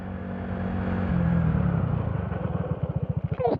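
Motorcycle engine droning steadily while riding, building into a rhythmic pulsing rumble toward the end, close and fairly loud with no voices.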